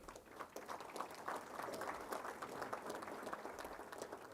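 A banquet audience at the Indiana Boys Basketball Hall of Fame applauds in a steady, sustained patter that sounds moderately distant and fills the room from start to finish.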